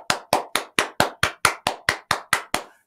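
Twelve sharp, evenly spaced hand claps in a quick steady rhythm, close and clear, with no voices.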